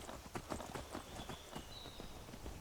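Horse hooves clip-clopping along a mountain path in the video game Skyrim, a steady rhythmic walking beat, fairly quiet under ambient game noise.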